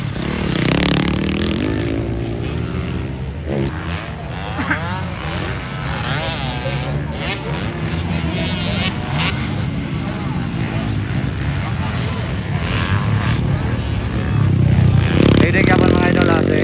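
125cc motorcycles race in a ladies' heat at Alanib, Lantapan, engines revving and droning continuously with rising and falling pitch under a loud commentator and crowd noise.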